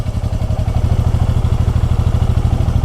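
A Honda Rebel 300 engine runs loud and close with a steady, rapid low thump while the clutch is slowly let out through the friction zone. The pulse stays even throughout and no one speaks.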